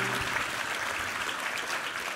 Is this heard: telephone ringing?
no